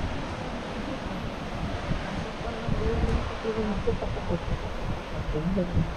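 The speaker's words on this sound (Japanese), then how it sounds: "波の音がいいです" Ocean waves break on the shore below Udo Shrine in Miyazaki, Japan, a steady rushing surf wash mixed with wind rumble, with faint voices nearby.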